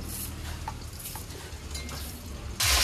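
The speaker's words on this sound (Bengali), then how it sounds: "আমি এদিকে মাছ ভাজা করছি" Fish frying in a pan gives a steady close sizzle with a few faint utensil clinks. A louder hissing burst comes at the very end.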